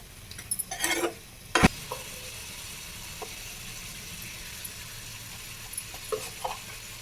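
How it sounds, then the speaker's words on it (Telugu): Chicken with onion and tomato is stirred in a pan for a village-style chicken curry: a low frying sizzle runs under a burst of scraping stirs and a sharp clank early on, then a few light scrapes follow, with no talking. "ఈ ఉల్లిపాయ ముక్కలు, టమాటో ఇదంతా కూడా చికెన్కి బాగా పట్టేటట్టు కలుపుకోవాలి."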